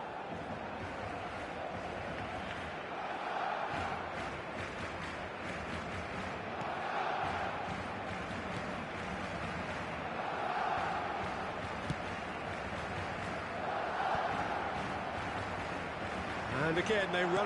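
A football stadium crowd at a Barcelona versus PSG match keeps up a continuous roar, with chants swelling and ebbing in waves under steady commentary.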